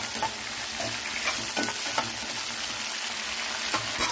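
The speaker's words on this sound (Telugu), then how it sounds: "అవి ఆడుతుండగానే ఉల్లిపాయ ముక్కలు కూడా వేసేసుకోవాలి చూడండి ఒకసారి కలిపేసుకోండి ఇలాగా" Onion pieces and mustard seeds fry in hot oil while being stirred for a long brinjal curry, a close, continuous sizzle with light spoon scrapes and small pops.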